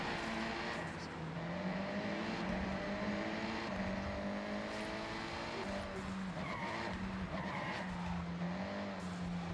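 A car skids and crashes in the racing game Forza Horizon 6. A loud, continuous engine roar runs throughout, with tire squeal rising and falling over it and no talking.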